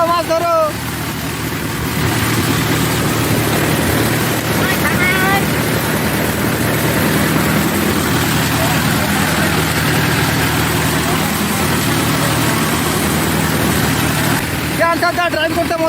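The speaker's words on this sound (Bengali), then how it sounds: "আমি ট্র্যাক্টরের উপরে বসে আছি, যে আমসানটা ড্রাইভ করতেছে" A Mahindra 4x4 tractor engine runs while the tractor is driven across a field, giving a loud, steady, continuous drone throughout, with people talking over it.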